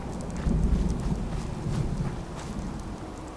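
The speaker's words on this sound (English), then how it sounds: "It's about to rain. And there's the rain." Rain falls in Fallout 4 as a steady, dense hiss over a low rumbling undertone, with soft irregular patters throughout at moderate loudness and no talking.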